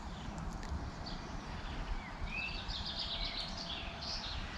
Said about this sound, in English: just listening to the birds that are very thankful for this improvement in the weather